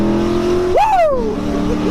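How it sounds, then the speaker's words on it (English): Ford Mustang accelerating hard in second gear, a loud engine note that sweeps sharply upward in pitch and then falls away, heard close over a steady idle rumble. "Should I give them a little second gear hit?"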